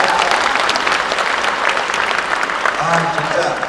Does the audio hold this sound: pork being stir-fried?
no